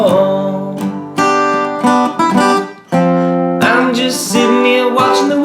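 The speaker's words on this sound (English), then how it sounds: "Another way you can play that little riff is instead of plucking individual strings, you can play a strummed version" Acoustic guitar strumming a riff, full chords ringing in a steady pattern with brief pauses between phrases, close and clear with no talking.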